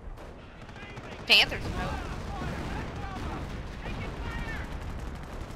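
Artillery and gunfire in the battle game Company of Heroes, a steady bed of distant rumbling fire with one sharp, loud blast near the start, while someone talks over it.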